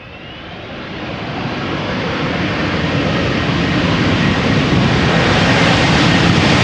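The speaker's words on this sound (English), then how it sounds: "JetBlue A321neo arriving from New York JFK will turn onto the glide slope for number 3" A JetBlue Airbus A321neo on approach to Amsterdam Schiphol swells from a moderate rush into a broad, loud jet roar as it draws nearer, with no talking.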